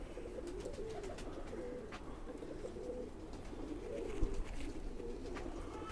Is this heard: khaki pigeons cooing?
yes